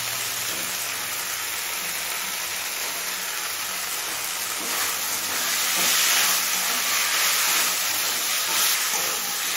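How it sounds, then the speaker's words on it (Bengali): Chicken and fried potatoes sizzling in a pan over medium flame, a loud steady hiss that swells slightly toward the end, with no talking. "এবার চিকেন আর আলুটা পুরোপুরি সিদ্ধ হয়ে আসা পর্যন্ত কষিয়ে নেব।"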